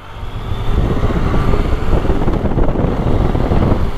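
A three-cylinder 2018 Yamaha MT-09 Tracer sport-touring motorcycle is being ridden, its engine a loud, steady low rumble mixed with heavy wind buffeting on the microphone, with no voices.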